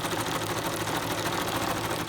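A sewing machine runs steadily as quilt pieces are chain-pieced, fed through one after another, with a continuous close whirring drone and no talk.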